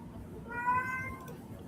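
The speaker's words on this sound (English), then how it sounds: "I can hear your cat mostly" A pet cat meows once, a short clear mid-pitched call rising out of steady low room noise, heard from nearby during an online chat.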